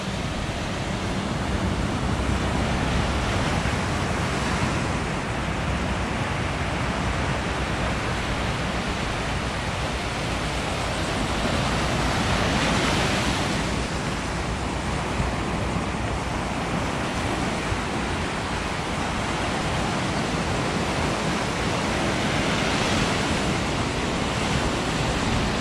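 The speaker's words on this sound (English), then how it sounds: "Let's just listen to the ocean for a minute." Ocean surf rolls onto the beach at Myrtle Beach in July, a dense continuous roar of breaking waves with slow swells in intensity, loud and unbroken for the whole stretch.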